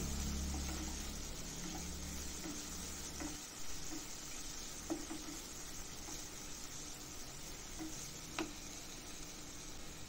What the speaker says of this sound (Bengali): এই যে দেখো এরকম ফুটতে শুরু করেছে আর কন্টিনিউয়াসলি তো নাড়তে থাকবেই